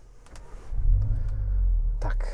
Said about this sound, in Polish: Odpalmy go sobie tym przyciskiem.